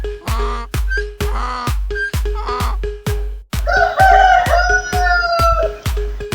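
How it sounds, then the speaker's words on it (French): A rooster crows loudly over a steady, rhythmic series of sharp percussive beats, with clucking-like calls early on. "Le coq."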